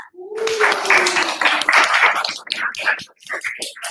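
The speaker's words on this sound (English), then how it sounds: "Let's give a bit of applause for Miss Fiorentina." An audience at a public speaking event claps for a few seconds, scattered hand claps rising and thinning out, with a brief voice at the start.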